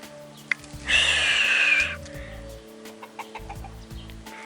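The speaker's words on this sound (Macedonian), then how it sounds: "го сликнав Петелот со двете кокошки" A rooster with two hens in a garden lets out one loud crow lasting about a second, surrounded by soft clucks and scattered clicks.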